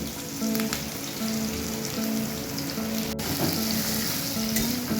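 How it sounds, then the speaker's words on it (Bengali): Sliced onions and whole spices fry in oil with a loud, dense sizzle that crackles steadily like rain on a surface, close up and uninterrupted, with a faint repeating hum beneath. "পেঁয়াজটা ফোড়নটা একসাথে একটু ভেজে নেব।"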